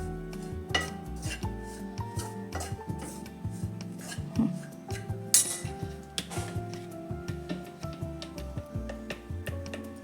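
Wheat flour roasting in ghee in a pan for dry fruit ladoo, stirred with a utensil that gives repeated clinks and scrapes against the metal in an uneven rhythm, close and fairly quiet, with no talk.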